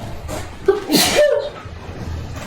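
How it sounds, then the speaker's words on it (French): A person lets out a single sharp sneeze indoors during the 2021 lockdown, a sudden burst rising out of quiet room sound and fading quickly. "J'ai éternué."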